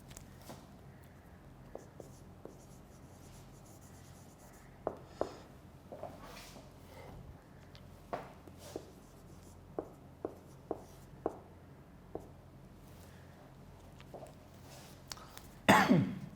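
Writing on a board during an English lecture produces scattered sharp taps and short scratchy strokes over quiet room tone, with a throat clear and a loud rustle at the very end.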